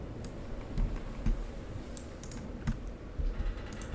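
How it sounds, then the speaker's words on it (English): Portable typewriter in the game Call of the Sea, typing in quick irregular clacks with a few louder keystrokes, faint and close, alone without voices. "A portable typewriter."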